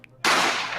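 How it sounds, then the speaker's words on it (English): A single sharp gunshot sound effect in The Great Ace Attorney Chronicles video game, bursting suddenly after a near-silent moment, loud and close with a short noisy decay. "You heard the gunshot, you mean?"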